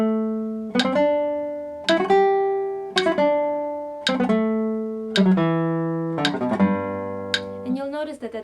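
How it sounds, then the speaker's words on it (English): A string instrument plays a scale in quick three-note bursts, each group separated by a short pause, ending with a faster run of five notes; close, clear and unaccompanied. "So with a 3-note burst, it will sound something like this."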